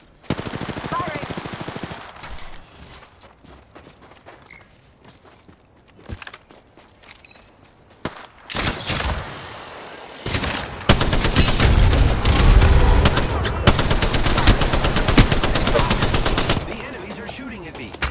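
Apex Legends gunfire: sparse scattered shots and footsteps at first, then sustained loud automatic bursts that rattle on for several seconds before tapering off.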